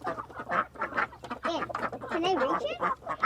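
Chickens clucking close by, a busy run of short overlapping clucks and calls with a steady low hum beneath.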